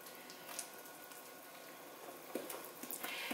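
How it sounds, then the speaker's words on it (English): Gluten-free cake batter with honey and vanilla being stirred in a bowl, a faint, soft wet churning with light scraping clicks, quiet and continuous. "We just need to mix this together."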